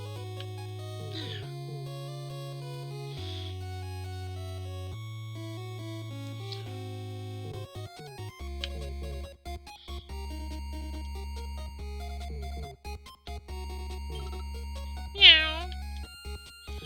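Cats meow repeatedly in Dragon Quest XI, the cries rising over steady in-game background music, with one louder, sharper meow near the end.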